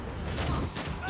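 Rapid gunfire from enemies in the video game Max Payne 3 rattles in a dense, continuous burst, loud and close, with a player's voice faintly underneath.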